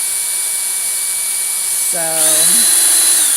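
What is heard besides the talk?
power drill spinning a dowel to wind yarn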